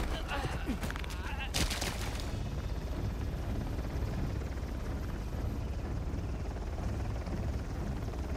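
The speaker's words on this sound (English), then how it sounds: "we have to shoot down our helicopter" Loud, dense helicopter rotor roar and bursts of gunfire from the video game Uncharted: The Lost Legacy, with a sharp burst of shots in the first seconds before a steady, churning rumble carries on alone.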